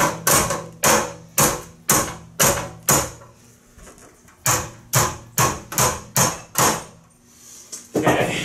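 Steady hammer blows flatten rubber grommets for a vintage GE box fan, about twenty sharp, close knocks in quick bursts with a brief pause midway, loud and without talk.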